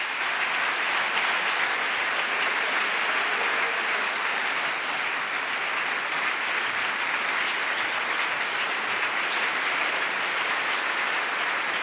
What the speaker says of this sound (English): Please join with me in welcoming Cornel West.